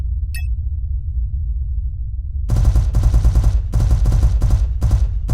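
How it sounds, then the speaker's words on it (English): Rapid bursts of spaceship turret fire from the SpaceBourne 2 space game, loud and close, start after a quiet hum and repeat in several machine-gun-like volleys. "Now, activate your turret weapon group and fire away."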